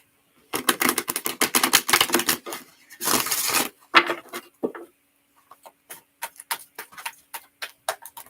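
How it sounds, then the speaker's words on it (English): Rapid, crisp riffling flutters of tarot cards being shuffled, in several bursts, followed by slower scattered taps and snaps of cards handled up close. "Okay, one more shuffle."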